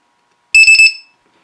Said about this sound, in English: set an alarm where a built-in siren will sound